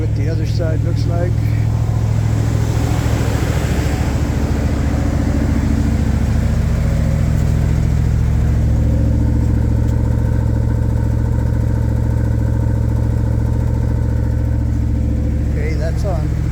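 A 1976 Chevy G10 engine with a newly installed Edelbrock part idles cold at slightly raised speed, a loud, steady, close rumble throughout, with someone talking over it at times.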